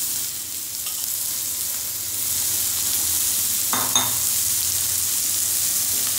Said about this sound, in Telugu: ఉల్లిపాయ వేగినాక దోరగా వేగాక క్యారెట్ ముక్కలు వేసుకుని